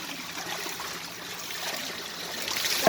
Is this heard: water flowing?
yes